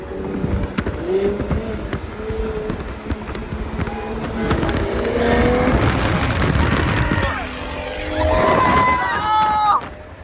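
A BMW M340i rolls hard down a street at night, racing another car; engine and road noise stay steady and loud throughout, with rising harmonic tones from acceleration and people talking over the top.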